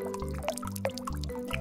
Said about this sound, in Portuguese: Tá chovendo lá fora de novo.